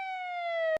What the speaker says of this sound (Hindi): कुछ देर बाद उसे पुलिस सायरन की आवाज सुनाई दी।